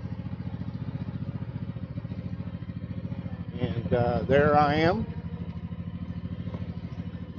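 A motorcycle engine idles with a steady, close, low chugging pulse throughout, while someone talks briefly partway through.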